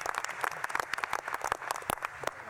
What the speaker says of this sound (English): So how about another round of applause for Secretary Ross and Secretary Chow